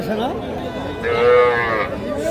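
Cattle moo loudly and close by at a livestock market in Kaharol, Dinajpur, one long low call followed by a higher drawn-out bellow, with faint crowd murmur behind.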